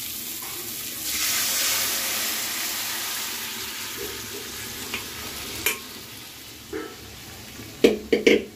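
Boiled dal with salt, turmeric and oil poured onto frying onions in a hot pan, a steady sizzle and pouring wash, then scattered clinks and scraping taps of stirring toward the end.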